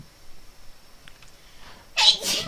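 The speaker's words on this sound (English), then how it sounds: "That is my wife sneezing in the background, by the way, if you heard that." A woman sneezes once near the end, a loud sharp burst after a quiet stretch with faint background noise.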